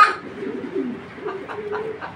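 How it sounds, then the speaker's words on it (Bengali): Original BRPL racing pigeons cooing softly nearby, a few low, throaty coos in a short rhythmic series after a brief opening note, quiet and close with no talking. "এটা কিন্তু অরিজিনাল বিআরপিএলের কবুতর"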